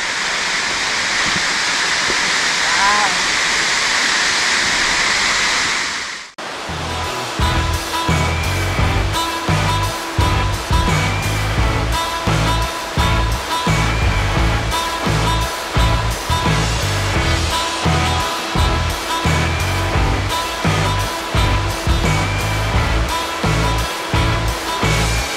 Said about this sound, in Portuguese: E olha só, chegamos na cachoeira já.